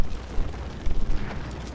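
A rocket explosion in the Battlefield 4 video game, a short, loud, rumbling blast with a couple of bursts over dense noise.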